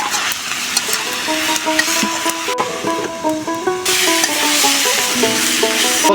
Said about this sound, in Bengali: ঢাকনাটা উঠে একটু নাড়া দিয়ে দেখি।